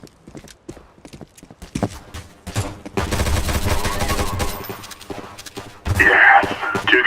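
Counter-Strike: Source gunfire: scattered sharp shots at first, then a sustained loud burst of automatic fire, ending in a louder, harsher flurry.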